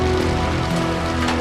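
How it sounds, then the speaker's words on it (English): Heavy rain hammers down at a dockside, a dense, steady wash of drops hitting hard surfaces, loud and continuous throughout with no voices. "With the rain hammering down"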